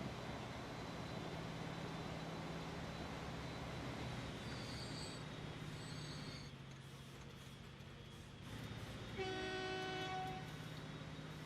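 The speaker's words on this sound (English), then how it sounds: "There's a train going over the bridge." Train rolling across a bridge in the video game Transport Fever, a steady rumbling rail noise with a horn-like tone near the end, all under a continuous low game soundscape.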